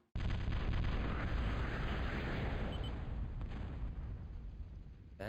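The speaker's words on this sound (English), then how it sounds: "That was the sound of an air scout going in." Air scout unit going in during a video game match, heard as a sudden loud, sustained roaring blast that rumbles for about five seconds before cutting off, with no talk over it.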